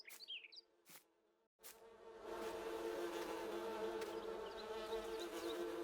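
Bees buzzing at a beehive in the game Farming Simulator 19: a few brief chirps and gaps at first, then a steady, dense droning hum that sets in and keeps on evenly at close range, with no voices.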